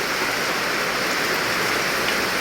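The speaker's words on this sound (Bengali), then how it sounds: "আপনারা জানেন বর্ষার সিজন এই যে বৃষ্টি হচ্ছে বাইরে" Monsoon rain falls outside in a dense, even hiss that stays constant and fairly loud throughout, with no voices.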